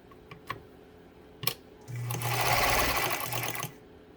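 A Pfaff 230 sewing machine runs a wavy zigzag stitch after a few sharp clicks. The motor whirs in a loud, steady burst of close rattling needle action for nearly two seconds, then stops.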